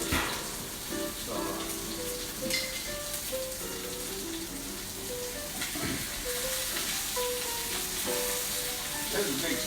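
Big steak searing in a hot pan, a constant close crackling sizzle with popping spatter throughout, while someone talks over it.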